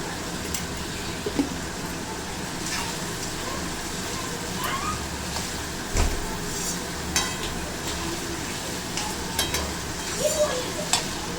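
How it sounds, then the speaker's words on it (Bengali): Vegetables for egg and shrimp fried rice sizzle steadily in a hot pan, with intermittent scraping and clattering of the spatula stirring them, fairly close and continuous throughout. "সবজিটা ভাজা হোক"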